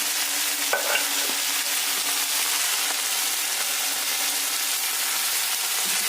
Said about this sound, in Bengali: একটু ধনে জিরে পেস্ট দিয়ে কষিয়ে নিই